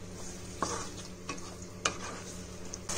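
Chicken stirs and sizzles in a pan of spiced yogurt masala for macaroni chicken biryani, with a soft steady frying hiss and a few sharp spoon scrapes against the pan, close and quiet, with no talking.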